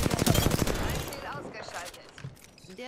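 Rapid bursts of automatic gunfire in the video game Apex Legends crackle loudly for about a second, then give way to a voice talking over fainter game noise.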